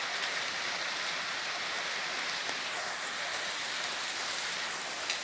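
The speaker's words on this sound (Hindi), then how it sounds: "आज बहुत बढ़िया बारिश पड़ी है, अब थोड़ी हल्की हो गई है" Steady rain falling on surfaces during the season's first rain, a continuous even hiss of drops that stays constant throughout, moderately loud and without any voices.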